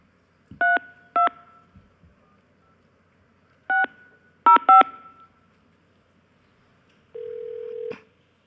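Touch-tone keypad dialing a long-distance number: short paired beeps in uneven clusters, then a longer steady electronic tone from the line at the end, clear and close in a quiet room.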